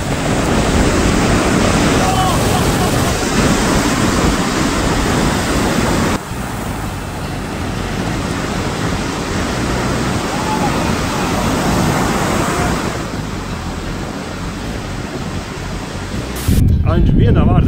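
Sea surf washing in steadily as broadband roar with some wind, loud and continuous, with a brief gap near the end before the rush returns.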